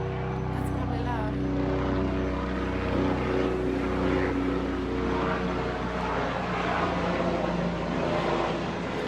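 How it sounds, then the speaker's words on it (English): A propeller airplane flying overhead, a steady low droning hum that stays constant and fairly distant beneath the surroundings. "Is the airplanes loud for you?"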